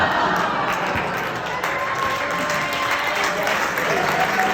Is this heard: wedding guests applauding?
yes